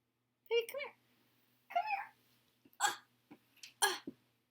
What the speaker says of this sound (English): Oh God, this cat right now is crazy.